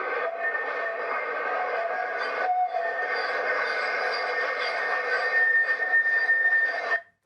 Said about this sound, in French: Voici un bruit de train ou de tram auquel j'aimerais que vous réagissiez.